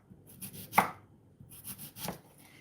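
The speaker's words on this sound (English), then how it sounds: "start chopping the onions" Onions being chopped with a knife on a board, a handful of sharp taps in two short bursts, close and clear with no talking.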